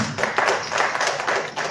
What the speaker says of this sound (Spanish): Entonces un aplauso para nuestros dos invitados